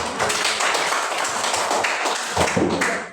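Classroom students clapping their hands together, a dense, steady burst of many claps filling the room at close range, briefly swelling near the end before tapering off.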